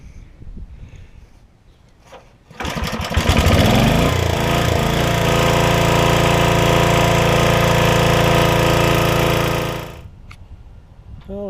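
A PowerChief generator engine cranks up after an oil change and roars into a loud, steady run, holds for several seconds, then cuts off abruptly. Brief low handling noises come before and after it.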